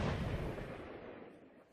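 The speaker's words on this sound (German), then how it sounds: "peitschte ein zweiter Schuss" A single gunshot effect cracks loudly at the start and decays into a rumbling tail, with no voice over it.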